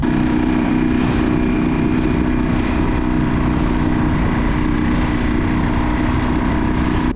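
A small 4-horsepower outboard motor drives a dinghy across the water near a moored old yacht, a steady close droning hum with wind buffeting the microphone throughout, no voices.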